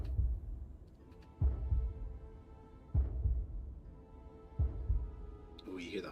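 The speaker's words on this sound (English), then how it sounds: "Oh, you hear the heartbeat too?" Heartbeat effect from the video game Lies of P: slow, heavy low thumps at regular intervals of about one and a half seconds, with a steady game music drone underneath.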